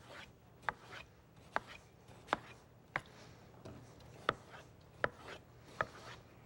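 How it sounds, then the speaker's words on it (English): A knife cuts watermelon into chunks on a cutting board, giving about eight evenly spaced, crisp, close chopping taps against a faint background; no one talks. "And simply cut it into chunks."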